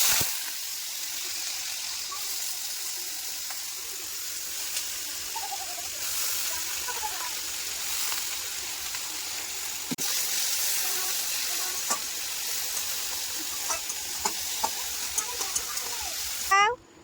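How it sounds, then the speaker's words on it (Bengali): Potato, onion and chopped chilli frying in hot oil in a kadai, a steady broad sizzle running throughout with occasional stirring clinks and faint voices in the background. "আলু লঙ্কা কুচি এখন সব তেলে চলে যাবে।"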